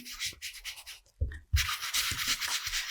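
Vintage Photo ink rubbed onto the cut paper edges of a journal cover frame, giving soft, dry scratchy brushing strokes in short bursts, close and fairly quiet, with brief pauses between passes.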